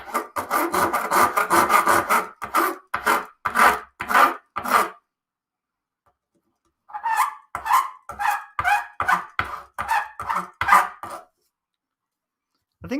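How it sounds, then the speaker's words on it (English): Sandpaper rubbing against the wood of a vintage classical guitar, heard as a quick series of rhythmic scraping strokes in two bursts separated by a few seconds of silence, close and fairly loud. "I think it's going to take probably like a whole thing of sandpaper"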